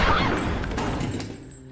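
Gunfire from a shootout scene in The Mentalist: a loud, close burst of shots at the start that fades into a decaying rumble with a few scattered sharp cracks.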